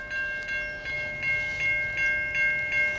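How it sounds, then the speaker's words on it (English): A northbound train rolls past with a steady, evenly spaced clacking of wheels and a sustained tonal ring above the rumble, loud and close, with no voices. "the train that's heading north is going to come through"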